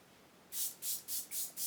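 Makeup setting spray hisses from its applicator in five short, evenly spaced bursts, close and fairly loud against a quiet room.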